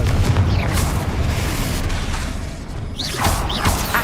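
Confringo fire spells in Hogwarts Legacy burst twice in combat, each a loud, broad booming blast with a crackling tail, separated by a few seconds of rumbling battle noise.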